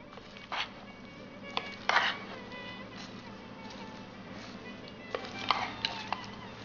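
Chopped tomato and cucumber with papaya being mixed in a bowl for a salad: sparse, soft clinks and wet scraping strokes, a few louder knocks, spread over several quiet seconds.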